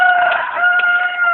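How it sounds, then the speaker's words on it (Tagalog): Chickens and a rooster at a poultry farm in Sta. Clara give a sustained, fairly loud crow with cackling, heard close and continuously across the short moment with no talking. "Daming manok dyan, oh."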